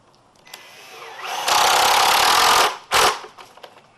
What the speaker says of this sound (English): we're going to go ahead and run our screws in